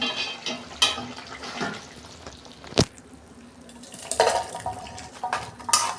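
A lid comes off a pot of chickpea, potato and papaya curry with metallic clanks, one sharp ring midway, then wet scraping and pouring as the curry is tipped out, close by with no talking.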